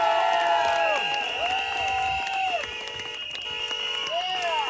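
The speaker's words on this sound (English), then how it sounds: "Let's give them all a great round of applause." A rally crowd cheers and applauds in a continuous roar that holds steady throughout, with whistles and high, rising shouts cutting through the noise.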